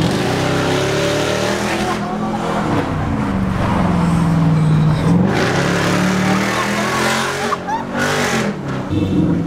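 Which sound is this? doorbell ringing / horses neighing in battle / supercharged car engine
supercharged car engine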